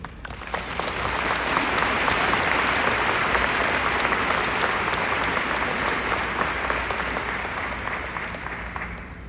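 Sustained applause from a large commencement audience at Duquesne University's School of Business graduation ceremony, steady dense clapping filling the hall for several seconds as the speaker is welcomed to the stage.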